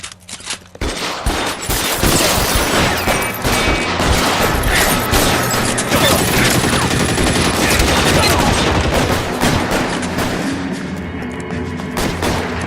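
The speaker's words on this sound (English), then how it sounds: "Bullets start flying." Sustained gunfire in the video game L.A. Noire, rapid overlapping shots and bursts like a fusillade crackling loudly without pause for over ten seconds after a brief quiet opening, with little talk beneath.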